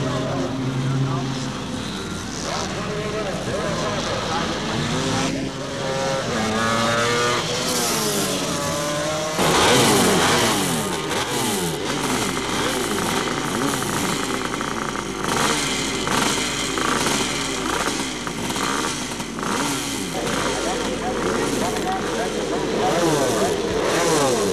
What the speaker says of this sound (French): À chaque fois, 5 à 6 motos, parfois plus, prennent le départ et doivent accomplir 3 tours de piste.